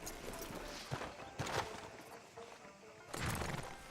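Horse hooves clip-clop in Red Dead Redemption 2 as a rider pulls up outside a town sheriff's office, a few irregular hoof strikes over a steady background hum, moderately near with no talk.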